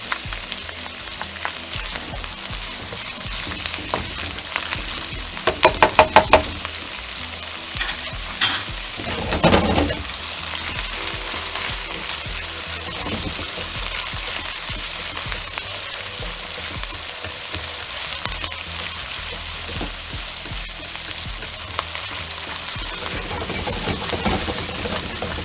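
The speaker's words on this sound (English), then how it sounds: "you want to cook the ginger until it gets nice and aromatic" Ginger frying in a pan for a Filipino chicken stir fry, a loud steady sizzle with occasional spatula scrapes and stirring clatters against the pan, no voices.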